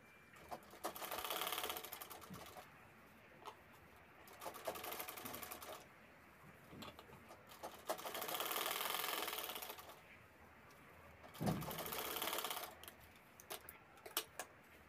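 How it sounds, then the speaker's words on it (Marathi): A sewing machine topstitches the corners of a zippered fabric handbag, running in several rapid rattling bursts with brief pauses between them. The stitching is close and fairly loud, with no talking. "तर बॅगचे कोपरे आपल्याला व्यवस्थित करून परत त्यावर दाबटीप करून घ्यायची आहे."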